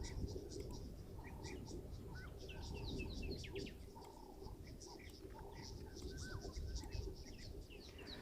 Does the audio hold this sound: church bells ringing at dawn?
no